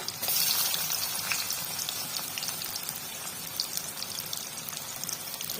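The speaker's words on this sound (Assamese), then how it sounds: "পিঁয়াজখিনি ভাজিব লাগিব অলপমান, মানে বেছি নহয়, ৰঙা হ'ব লাগিব" Onions sizzle in a pan during Assamese-style drumstick cooking, a steady bright crackling hiss with scattered pops that carries on without pause, fairly quiet and with no one talking.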